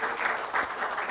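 An audience at a breast cancer care event claps in a brief, steady burst of applause at moderate distance.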